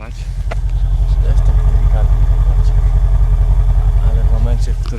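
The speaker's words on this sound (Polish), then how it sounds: "A najpiękniej jest w momencie, w którym będziecie słyszeć ten wydech." The exhaust of a Mercedes S63 AMG Coupe (C217) gives a loud, steady low rumble, close and continuous, while someone speaks over it throughout.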